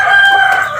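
A rooster crows loudly and close by, one sustained cock-a-doodle-doo call with no other sounds around it.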